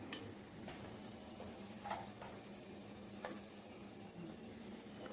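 Spices and cloves sizzle in hot oil in a pan for egg biryani, a steady low crackle with occasional soft stirring clinks, close and fairly quiet, no voices.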